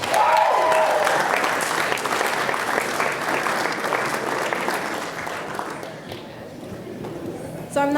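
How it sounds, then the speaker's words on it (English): Wedding guests applaud the maid of honor as speeches begin, a loud, sustained roomful of clapping and cheering that carries on for several seconds before thinning out, with a short cheer or voice at the end. "Let's give Ken a nice big round of applause."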